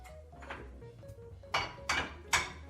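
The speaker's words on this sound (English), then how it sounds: "I'm taking the smallest pan that I have" A small kitchen pan is handled while oat fudge is being made, giving three sharp metallic clanks near the end, each ringing briefly, after softer clinks and knocks of cookware at close range.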